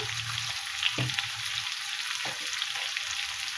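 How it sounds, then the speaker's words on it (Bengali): Cauliflower florets with turmeric and salt frying in oil in a pan, a steady bright sizzle with a few soft stirring clicks, close by and without speech. "এইভাবে এটা ভাজতে থাকবো ভালো করে"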